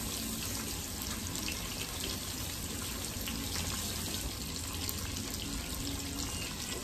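Greasy hands rinsed under a running kitchen tap, the water rushing in a steady, close, continuous hiss from start to finish, with no voices.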